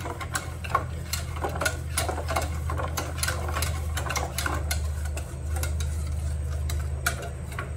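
Milk and cornflour pudding with melting chocolate is stirred in a pan, a quiet, steady run of soft scraping ticks over a low hum.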